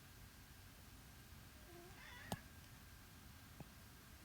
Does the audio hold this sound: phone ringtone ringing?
no